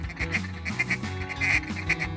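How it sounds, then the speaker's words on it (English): Mallards and teal quacking as they fly into a moist-soil hole in East Arkansas, a dense chorus of overlapping quacks and honks that continues steadily throughout. "what a spectacle to see all these ducks coming in"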